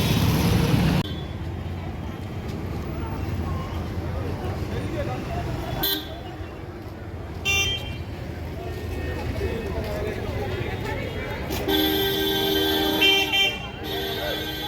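Busy traffic at Shilpashree bus stand in Bally, with car and bus horns tooting at intervals over a steady street rumble while someone talks nearby.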